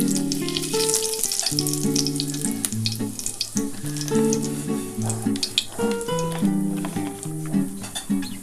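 Fennel seeds and whole cumin fry in oil as the base for a dhaba-style chicken curry, giving a continuous close sizzle with crackling and faint stirring, no voices, alongside a steady tonal hum.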